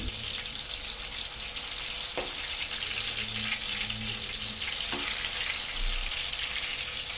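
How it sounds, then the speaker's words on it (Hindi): Green chillies coated in gram flour batter frying in oil for mirchi pakoda, a constant dense hiss of bubbling oil with a couple of faint taps from a stirring utensil. "देखिए इस तरह हमारी हरी मिर्च फ्राई होना स्टार्ट हो जाएंगी"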